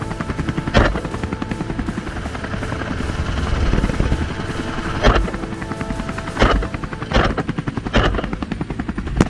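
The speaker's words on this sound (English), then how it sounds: "The helicopter glides low over a not yet harvested field near the village" A helicopter passes low and loud, its rotor thumping in a steady rapid beat, with a few sharp cracks punching through the drone.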